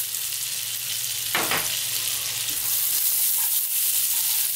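Cumin seeds sizzle in melted butter in a pan for Indian butter chicken, a steady close frying hiss with a short burst of crackle early on, and no talk.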